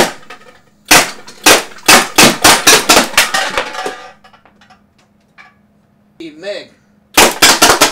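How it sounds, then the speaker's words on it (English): A CO2 air pistol fires a quick string of sharp, loud cracks, around a dozen in rapid succession, then pauses briefly with a short spoken word before another burst of shots. "First, you pull the trigger once to engage the CO2. Now the CO2 is charged. My second shot will be"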